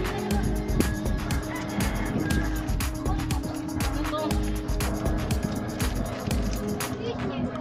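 Chickens cluck amid a busy, noisy outdoor scene, with people talking loudly over the top and traffic-like rumble underneath.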